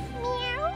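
A cartoon cat gives a single short, rising meow, bright and close, voiced in a kids' animated show with a music bed underneath.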